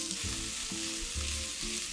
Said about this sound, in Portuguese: vou colocar na frigideira junto com a cebola e deixar dourar um pouquinho